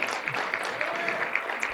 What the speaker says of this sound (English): you can applaud on that if you want